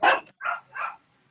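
A dog barks three times in quick succession, a sharp first bark followed by two slightly softer ones, close and clear against a quiet background.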